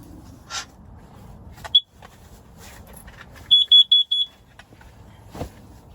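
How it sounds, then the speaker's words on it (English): A carbon monoxide detector inside a winter camping tent gives a quick series of four sharp, loud electronic beeps midway, preceded by one short chirp, against quiet background rustling and occasional soft knocks. "carbon monoxide detector."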